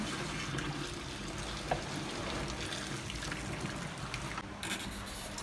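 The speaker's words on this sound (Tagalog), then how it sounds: "Itapon lang natin yung tubig." Water from a pot of eggs boiled for two hours, being salted eggs, is poured out in a steady continuous splash and trickle, close and fairly quiet, with no talk.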